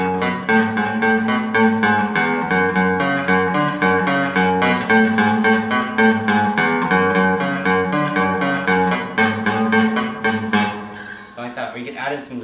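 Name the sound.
electric guitar playing a song intro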